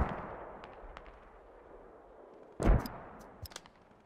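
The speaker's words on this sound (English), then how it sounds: "we're gonna try to mortar the southern fob" Mortar fire in the military shooter Squad: one loud, sharp blast with a rumbling tail over a quiet background, followed by a few fainter cracks.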